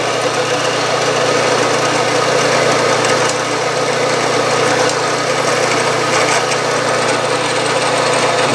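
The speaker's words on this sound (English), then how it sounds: "I'm ready to center drill right now." Steady loud machine drone with a constant mechanical hum and vibration, like a drill press running continuously without pause, center drilling a small brass casting.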